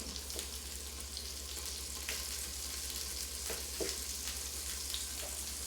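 Onions for hamburgers frying in a pan, a steady soft sizzle with occasional small pops and crackles, fairly quiet and even throughout, with no talking.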